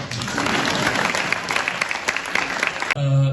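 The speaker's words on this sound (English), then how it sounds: "Applause, yeah." An audience applauds a speech at a British Indian Azadi Ka Amrit Mahotsav gathering, with dense clapping for about three seconds that ends abruptly as a brief voice cuts in.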